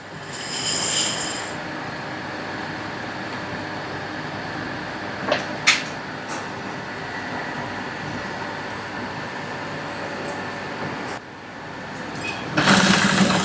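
A sewing machine runs a long, steady mechanical whir while top stitching around a double colour tote bag, close by, with a few brief clicks and handling knocks.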